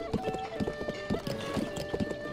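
Horse hooves clip-clopping in the video game Zelda: Breath of the Wild, a quick steady trot of close, crisp hoofbeats over a light ambient bed.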